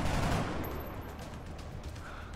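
Gunfire from a soldier's shots at an enemy in half cover in the turn-based strategy game XCOM: Long War, a dense noisy burst at the start that decays into a lingering rumbling tail.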